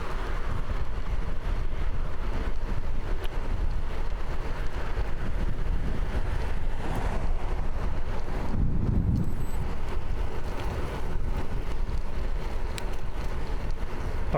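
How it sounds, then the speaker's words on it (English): Steady wind buffets the microphone during a windy morning commute on Vancouver Island, a continuous loud low rumble that never lets up, with no voices. "Oh, it's windy today."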